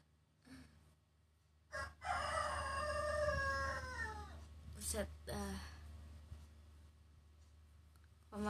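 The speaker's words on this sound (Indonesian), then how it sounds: "Malam suka bunyi enggak tuh ayam?" A rooster crows once in a long, drawn-out cock-a-doodle-doo, loud and close, followed by a few shorter clucks and a faint meow-like sound over a steady low hum.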